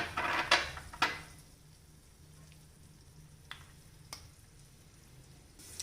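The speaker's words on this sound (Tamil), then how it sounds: "நெக்ஸ்ட்டு இந்த திராட்சையும் வறுத்துட்டு இதில் போட்டுக்கலாம்." Raisins frying in a pan for milkmaid payasam, a sweet Tamil milk pudding. A couple of loud crackling bursts open, then it settles into a low, steady frying hiss with occasional sharp pops.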